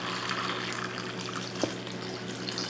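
Water pours steadily into a pot of cranberry sauce, a continuous close splashing rush with a small plop partway through.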